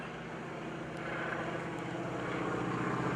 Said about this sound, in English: the propeller slapping at the sky